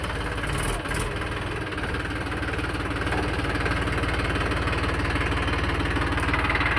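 A tractor engine runs steadily at close range, a continuous low rumbling idle with an even pulsing beat and no breaks.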